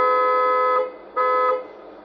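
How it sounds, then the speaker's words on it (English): The town horn of a Tamiya King Hauler RC truck gives two short, clear electronic toots in quick succession, close and fairly loud, with nothing else in between. "We have the highway horn and we have the town built up area horn."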